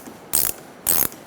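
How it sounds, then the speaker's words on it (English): Quarter-inch ratchet wrench turning a rear shock absorber nut on a 2014-2019 Kia Soul, two short crisp ratcheting bursts of rapid clicks, close and alone. "I'm gonna put my 1/4" wrench on the very end here, just to get this the rest of the way."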